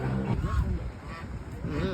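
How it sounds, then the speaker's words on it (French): Geese honk in a busy outdoor setting in Rome, repeated nasal calls mixed with low background murmur and some voices nearby. "Des oies."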